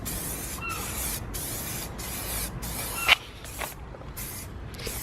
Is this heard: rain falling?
no